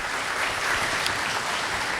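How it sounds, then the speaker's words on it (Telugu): A church congregation claps at a feast service, with dense, continuous clapping from many hands that holds at an even level throughout. "గట్టిగా దేవుడికి చప్పట్లు కొడుతూ వందనాలు అర్పిద్దాం."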